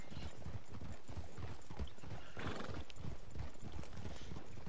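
A horse in Red Dead Online breaks from a trot into a run, its hoofbeats pounding in a steady rhythm close by, with a whinny and no talk.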